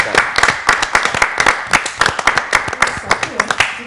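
An audience claps to welcome a general as he arrives, individual hand claps rhythmic and close, fairly loud and somewhat sparse, with voices faintly underneath.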